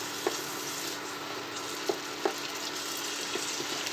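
Potatoes for a potato roast cook in a pan with a little added water, giving a steady, even sizzle with a few soft clicks as the food is stirred.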